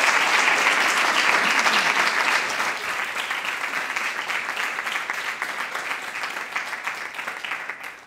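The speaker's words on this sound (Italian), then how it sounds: "io direi di accogliere con un applauso subito il nostro Nicolò" An audience at a live talk event greets a guest named Nicolò with loud, dense applause that starts strong and slowly thins over about eight seconds, ending abruptly.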